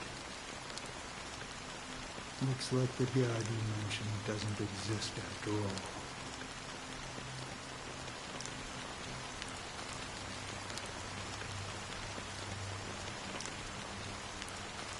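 Fine black drizzle of rain falls steadily in Honkai: Star Rail, a soft continuous hiss of drops on surfaces running throughout, with someone speaking over it early on.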